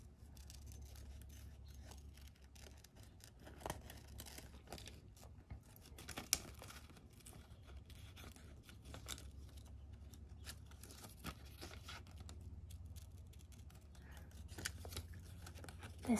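Scissors snipping paper for a collage, faint irregular clicks and crisp cuts with soft rustling and crinkling over a low hum, no voices.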